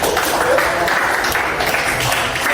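A class of students claps in a classroom during an art lesson, a dense, sustained round of applause at steady strength with no break across the whole stretch.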